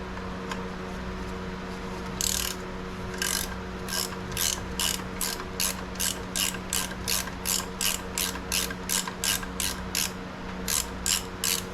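Ratchet wrench clicking on a bolt while a 2001 Dodge Ram 1500 transmission is removed, a rapid regular series of sharp clicks in short bursts, close and clear over a steady low mechanical hum, with no talking.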